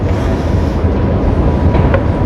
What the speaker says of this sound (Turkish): trene binip gitmek için geldik